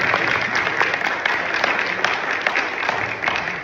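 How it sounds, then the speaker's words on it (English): A crowd at a candidates forum breaks into sustained applause for mayoral candidates, close and fairly loud even clapping lasting a few seconds. "Let's give them a round of applause."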